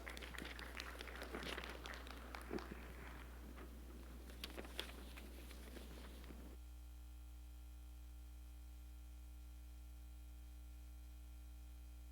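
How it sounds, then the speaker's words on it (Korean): A church congregation claps to welcome a speaker, scattered applause rising for several seconds over a steady electrical hum, then cutting off abruptly to leave only the hum. "우리 박수로 환영하도록 하겠습니다"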